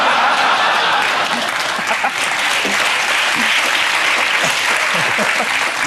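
A studio audience at a comedy panel show applauds loudly and steadily throughout, a dense wash of clapping close up with a faint voice beneath.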